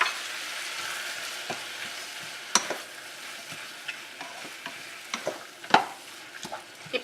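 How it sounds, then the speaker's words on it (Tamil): Tomatoes sautéed in a pan for kadai paneer, a steady close sizzle with repeated scraping and stirring clicks from a spoon, no talking. "எல்லாத்தையும் சேர்த்து நல்லா தக்காளி வந்து மசிற அளவுக்கு நல்லா வதக்கிக்கோங்க."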